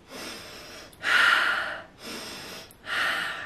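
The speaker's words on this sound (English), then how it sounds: "Deep breathing" Two slow, deep breath cycles sound close and alone: each soft, airy inhale swells into a longer, stronger exhale.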